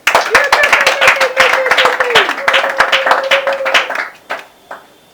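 A small gathering claps in welcome, close and lively rhythmic clapping with a sustained voice calling out over it, tapering off to a few scattered claps.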